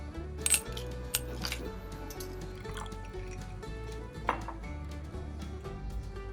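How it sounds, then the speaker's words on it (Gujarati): Ice cubes drop into a glass as the first step of making a mango Frooti drink, giving a few bright clinks and knocks early and midway, fairly quiet and close, with no talking. "ફ્રૂટીની અંદર આપણે સૌથી પહેલાં આઈસ ક્યુબ એડ કરી દઈશું."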